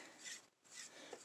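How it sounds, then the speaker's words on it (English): A dry cloth rag is drawn through the metal parts of an AK-47 rifle during cleaning, two soft close rasping rubs separated by a short pause, ending with a brief sharp knock. "so now run that dry rag through that section there and get all the excess oil and dirt and grime out of there"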